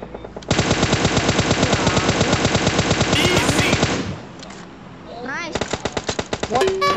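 Rapid automatic gunfire in a shooter video game, a loud, dense burst of shots for several seconds, a pause, then another fast burst, with other game sounds between.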